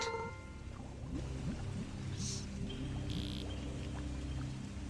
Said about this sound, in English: The sound of a waterfall echoing melodiously through the cave, filling it with music.